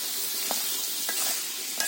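Spices and boiled dal frying in hot oil in a village kitchen, a loud, dense crackling sizzle with a few sharp stirring scrapes, close up and without speech.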